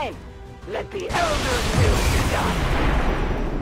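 A video-game explosion in XCOM 2 hits suddenly after a quiet moment and swells into a loud, sustained crashing roar that fills the rest of the moment.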